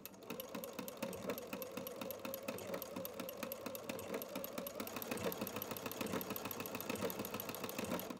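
A sewing machine fitted with a ruffler foot runs steadily through fabric at a short stitch length, a continuous close mechanical hum with fast, even rhythmic ticking and no pauses or voices.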